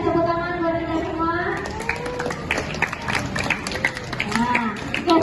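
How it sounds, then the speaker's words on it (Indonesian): Crowd of students and teachers clapping at a school literacy event, a dense steady patter of applause filling the room with a few voices calling out over it. "sekali lagi kasih tepuk tangan buat kita semua."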